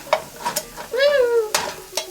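Slices of dollar-store bologna fry in a pan with a soft, steady sizzle and a few sharp pops, while a voice gives a long, rising and falling whoop in the middle.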